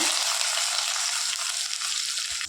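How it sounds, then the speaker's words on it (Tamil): Garlic cloves and chopped large onion hitting hot oil for a tamarind potato and drumstick curry, a steady loud dense sizzle of frying with no talk. "இருபது பல் பூண்டு ஒரு பெரிய வெங்காயத்தை இந்த மாதிரி கட் பண்ணி சேர்த்துக்கோங்க"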